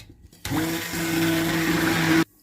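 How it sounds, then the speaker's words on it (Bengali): A kitchen blender whirs through a turmeric drink made with MCT oil and honey, starting abruptly and holding a loud, steady motor drone for about two seconds before cutting off. "দেবো একটু মধু। এবার ব্লেন্ড"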